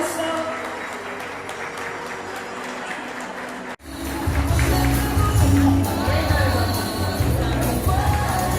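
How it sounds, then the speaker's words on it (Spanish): Applause for an honoree at a workplace recognition ceremony, a steady wash of clapping that swells louder after a brief break, with voices mixed in. "Fuerte el aplauso."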